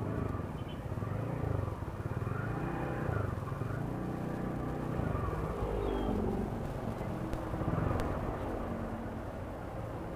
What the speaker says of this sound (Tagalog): sabi strike pero ganito pa rin katindi ang traffic oh